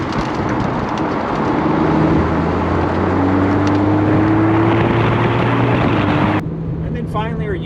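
A naturally aspirated Porsche 911 Carrera 4S engine drones loudly and steadily from inside the car, its pitch slowly rising under wind noise, then cutting off abruptly into a brief spoken voice.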